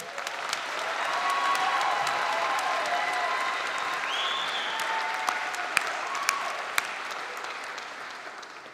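Steady audience applause at a December 2021 university commencement honoring environmental biology graduates, an even crowd wash lasting several seconds with a few louder individual claps standing out near the end.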